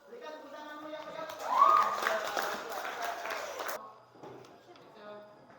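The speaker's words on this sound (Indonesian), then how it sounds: "Berikan tepuk tanganmu yang meriah" Classroom applause during a lesson: a burst of clapping from a group that swells for about two seconds and then stops abruptly, with a voice speaking before and after.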